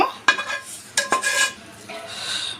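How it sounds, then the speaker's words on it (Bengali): Chana dal halwa is scraped from a pot onto a ghee-brushed plate, with close metallic clinks and scrapes of utensils against cookware in short bursts and a faint sizzle. "এই পর্যায়ে আমি এখানে এই বুটের ডালের হালুয়াটা ঢেলে দিব।"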